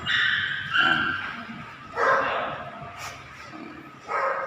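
Several dogs at a dog cafe playground bark and yip in short bursts, fairly close and loud, with pauses between barks.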